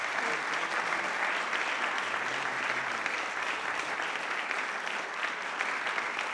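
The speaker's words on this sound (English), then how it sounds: "So round of applause to our students." Audience applause for students at a school band concert, a steady wash of clapping from a room full of people, moderately distant and sustained throughout.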